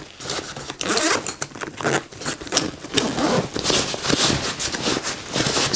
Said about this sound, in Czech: Ten je jištěn opět dvojicí popruhů a dále také dvoucestným zipem.